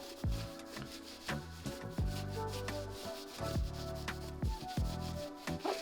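Brisk back-and-forth rubbing strokes scrub at a small stain on a Nike Dunk sneaker, a rhythmic scratchy brushing heard close up.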